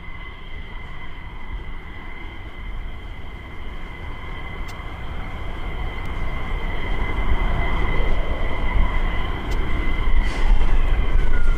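A large C-17 military transport aircraft on approach near RAF Lakenheath/Mildenhall, a broad steady jet roar with a sustained whine that swells gradually louder as it nears.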